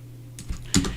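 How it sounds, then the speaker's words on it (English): Keys on a computer keyboard clack twice, a lighter tap followed by a louder spacebar press, close up over a faint steady hum. "and press the spacebar"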